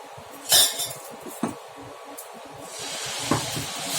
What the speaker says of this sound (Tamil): இன்னொரு தோசை ஊற்றிட்டு அப்படியே இந்த வடையை போட்டு விட்டுடலாம்